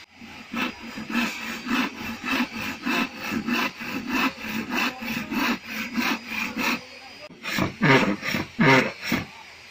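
A hand saw cuts through wood for a Japanese-style beehive box in steady back-and-forth strokes, a rhythmic rasping that pauses briefly, then resumes with a few harder strokes.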